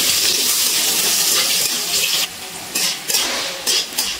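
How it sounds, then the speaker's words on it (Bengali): Long-cut potatoes frying in hot oil in a pan give a steady, loud, hissing sizzle that softens briefly toward the end. "আলুগুলো একটু ভালো করে ভেজে নেব।"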